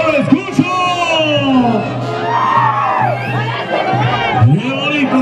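A large crowd at a rural jaripeo rodeo in Santo Domingo Albarradas shouts, whoops and cheers loudly and continuously, with an announcer's voice speaking over the noise and a steady low drone beneath.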